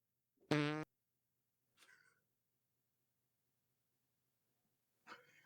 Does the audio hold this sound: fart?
yes